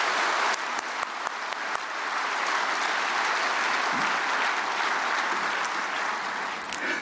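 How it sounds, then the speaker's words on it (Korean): Loud, sustained applause from a large congregation at a prayer meeting for peaceful reunification, steady and dense for the full stretch as a former defense minister and church elder is welcomed to the stage. "큰 박수로 맞이하겠습니다."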